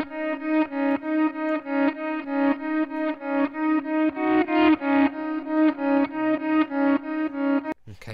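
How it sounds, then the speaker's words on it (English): Electric guitar heavily processed with effects and distortion strums a steady repeating rhythm of chords, each stroke pulsing evenly, loud and upfront with a slight shimmer, ending in a brief cutoff. "Let's look at the process guitar"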